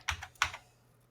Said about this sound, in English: You sound like you're typing a book.